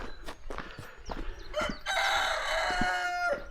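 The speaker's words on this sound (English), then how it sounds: "Hey, the chickens are out." Chickens cluck in short, scattered bursts outdoors on a Peak District wild camp, then a rooster lets out a long, loud crow close by.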